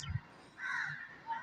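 Cawing bird calls sound in a cartoon bedtime story, two short harsh caws at a moderate distance with a brief low thump at the start.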